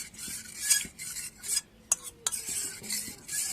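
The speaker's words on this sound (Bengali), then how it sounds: "এবারে আমি দুধের সাথে কর্নফ্লাওয়ারটা খুব ভালো করে মিশিয়ে নেব।" Cornflour is stirred into milk in a bowl, with repeated soft scraping swirls and a few sharp clinks of a spoon against the bowl, close and fairly quiet.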